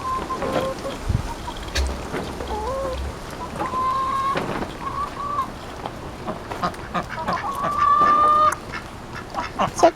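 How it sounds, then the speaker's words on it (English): Ducks drinking and splashing in muddy water in a fruit garden give repeated nasal honking calls, some drawn out, over a patter of splashes and dripping. The sound is close and fairly loud, with no speech. "Ducks are getting drinks,"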